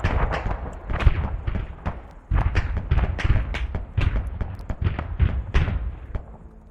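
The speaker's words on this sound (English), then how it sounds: "So you hear the pounding of that autocannon." An autocannon in Arma 3 pounds out a long run of heavy, booming shots in quick, uneven bursts, loud and close with no talking over it.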